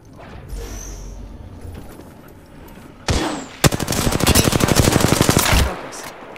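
Gunfire in the shooter Apex Legends: after quieter ambience, a loud rapid-fire burst of evenly spaced shots rattles for about two seconds, then stops.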